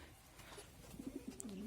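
Soft, low cooing of pigeons, a few short burbling calls rising toward the end, quiet and close.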